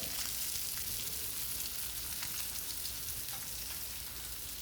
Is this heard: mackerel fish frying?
yes